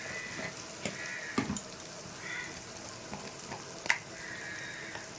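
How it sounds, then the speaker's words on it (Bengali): Potatoes with cumin, coriander and red chilli powder fry in a pan for aloo dum, giving a steady soft sizzle with a few sharper scraping stir clicks, close and fairly quiet, without talk. "এবার এটাকে একটু কষিয়ে নেব।"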